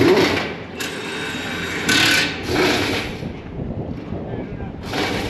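An impact tool torques the wheels on a new Nuhn 8500-gallon tanker, firing in several loud, close hammering bursts separated by short pauses, over outdoor background noise.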